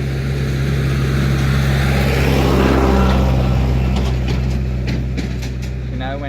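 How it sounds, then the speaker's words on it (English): A tractor rumbles past outdoors, its steady low engine drone swelling toward the middle and easing off as it moves away, with faint clicks near the end. "I let the tractor go by real quick."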